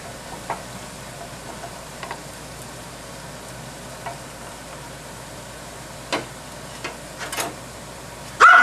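A potato browns in a frying pan with a faint, steady sizzle, broken by a few soft ticks and small pops, and a louder clatter at the very end.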